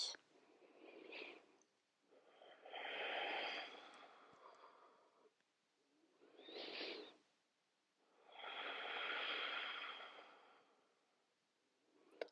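Slow, deep breaths during a yoga pose, four long airy breath cycles with pauses between, close and fairly soft, with no talking.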